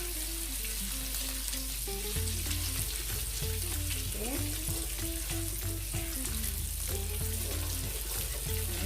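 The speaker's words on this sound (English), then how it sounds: "we're not burning the curry, we're just burning off the rawness from the curry" Curry and shrimp fry in a pan for Jamaican-style curry shrimp in coconut sauce, a steady close sizzle under prominent background music.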